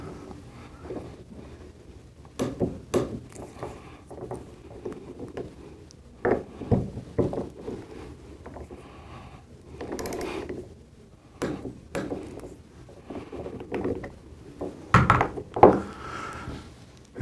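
A torque wrench clicks in scattered sharp metallic snaps while shim bolts are tightened along an Exair air knife, with a few duller knocks between them.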